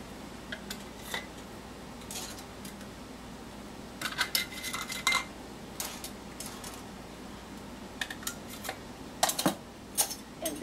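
Metal canning lids, fresh from boiling water, are set one by one onto glass jars of bread and butter pickles, making scattered light metallic clinks and taps close by, with no talking.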